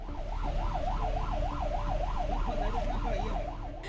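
A 108 ambulance siren wails steadily in a rapid up-and-down pattern while the vehicle is stuck in a traffic jam in Himmatnagar, with a low rumble of traffic underneath and no talking.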